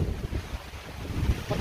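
Strong wind buffets the microphone with low, rumbling gusts during a rainstorm, a rough roaring that swells and dips continuously.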